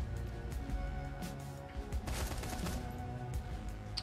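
Fully automatic gunfire in the video game Shadowrun Hong Kong: rapid bursts of game shots over a dense, loud backdrop of music and effects, continuous throughout, without speech.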